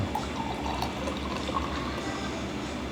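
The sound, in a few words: pouring an alcoholic drink into a glass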